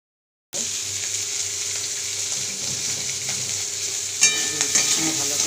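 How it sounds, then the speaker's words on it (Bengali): Frying in a pan while ginger paste is being added, a steady close sizzle that starts abruptly and continues evenly, with a few clinks and a brief burst of louder spitting near the end. "এইটা ভাজা হচ্ছে, এর মধ্যে আমি দিয়ে দেবো অল্প করে আদা বাটা"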